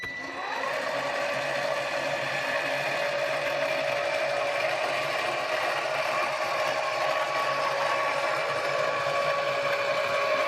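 A Teresa Collins Cut'n'emboss die-cutting machine runs with a steady motorized whine and mechanical hum, continuous and close for the full length, without talk.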